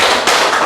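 A classroom of pupils claps in unison for a concentration clap, a loud, dense, close burst of hand claps filling the short moment.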